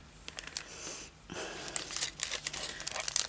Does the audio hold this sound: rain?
no